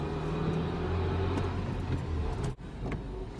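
A 2001-2005 Honda Civic drives along with a transmission bearing fault, giving a steady low grinding drone and road rumble from inside the car and one brief dip in the noise.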